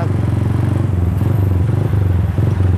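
A custom Yamaha Bison bobber motorcycle being ridden, its engine a loud, close, steady throbbing drone with a rapid regular pulse throughout and no talking.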